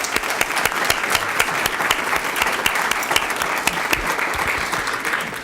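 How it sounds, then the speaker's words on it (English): Banquet guests at a high school academy scholarship event give a round of applause, sharp claps from many hands filling the room at a steady, lively level. "Let's give them all a round of applause."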